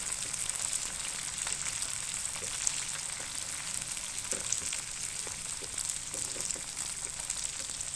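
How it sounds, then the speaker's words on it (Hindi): Okra pieces fry in oil with a soft, continuous crackling sizzle and scattered small pops, quiet and steady throughout with no talking. "तो अच्छी तरह से यहाँ पे आपने भिंडियाँ जो है उनको फ्राई कर लेना है।"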